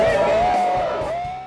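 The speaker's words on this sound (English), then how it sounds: "Give them a round of applause" An audience at a 2015 bike race awards at Carver Lake Park in Woodbury, Minnesota, cheers the winners: a sustained, rising whoop rings out over a loud crowd murmur.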